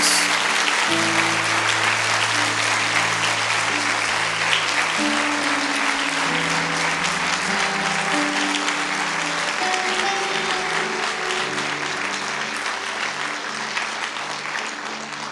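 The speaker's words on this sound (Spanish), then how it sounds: "Dale un fuerte aplauso a Jesús." A church congregation gives loud, sustained applause through a sermon, a dense wash of clapping running for over fifteen seconds with instrumental music tones underneath, fading slightly toward the end.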